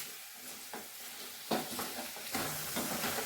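Potato pieces frying in a pan for sabudana upma, a quiet steady sizzle with a few soft stirring scrapes and knocks, close by and without speech.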